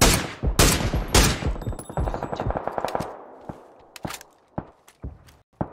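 Rapid bursts of automatic gunfire in a multiplayer shooter game, loud sharp shots clustered early, then scattered single cracks and short bursts with footsteps in between.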